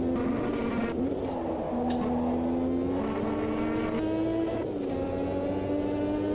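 Turbocharged 1.5 litre race car engine in the Automobilista 2 racing game, a loud steady high-pitched drone whose pitch climbs through gears with brief dips at shifts, continuous for the whole stretch with no talking.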